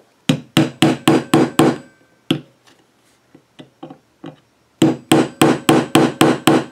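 Sharp metallic hammer strikes punch a small starter hole in a metal fork, landing in a steady rapid series, pause for a few scattered lighter taps, then resume in another quick even burst, close and loud.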